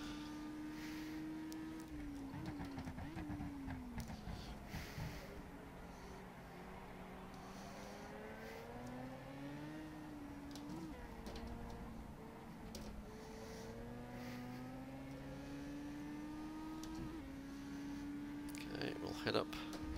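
An F3 race car engine at the Eifel Südstrecke in rFactor 2 drones continuously, its pitch rising and falling through gear changes, under steady commentary.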